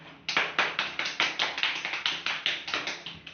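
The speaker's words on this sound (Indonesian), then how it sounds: "Ya, tepuk tangan." Classroom of students clapping together in a rhythmic, evenly spaced burst of about a dozen sharp claps, close and clear, led off by a single early clap.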